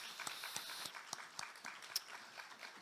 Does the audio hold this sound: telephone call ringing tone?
no